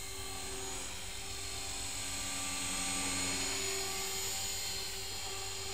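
A Monstertronic Storm 450 Sport RC helicopter, a clone of the Align T-Rex 450 Sport, flies on its maiden flight with a constant high-pitched rotor and motor whine that holds steady throughout.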